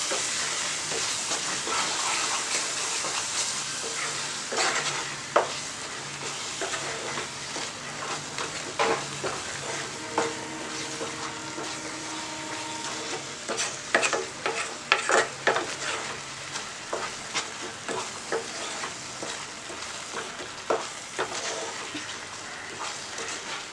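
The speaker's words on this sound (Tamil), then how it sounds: "இது வந்து கலக்கி விடுங்க" Ground spice mixture stirred and frying in a pan for chicken salna, with a loud dense sizzle throughout and repeated clattering scrapes of the spoon on the pan, more frequent toward the middle, with no talking.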